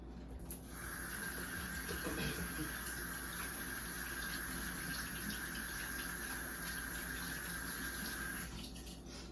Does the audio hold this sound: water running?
yes